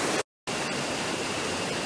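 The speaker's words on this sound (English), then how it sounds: "have that waterfall behind me for the rest of the report" A waterfall with river rapids close by, giving a loud, steady broadband roar that cuts out completely for a moment early on and then resumes unchanged, with no voices over it.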